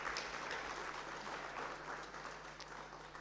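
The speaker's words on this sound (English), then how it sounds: "Can we please also give him a round of applause?" Audience applause at an international academic conference on Russia-Africa relations, a steady spread of clapping held at a fairly quiet, distant level for the whole stretch.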